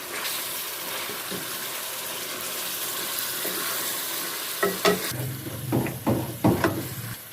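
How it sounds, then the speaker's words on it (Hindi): Minced meat frying over a medium flame hisses steadily in a pan, then several sharp spoon knocks and scrapes come near the end as it is stirred. "मीडियम फ्लेम तक 5 मिनट तक कीमा को इसी तरह भूनेंगे"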